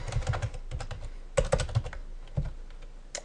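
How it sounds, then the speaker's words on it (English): Someone types on a computer keyboard nearby, with crisp, irregular key clicks in short bursts and a few heavier keystrokes. No voices are heard. "Let's type that correctly."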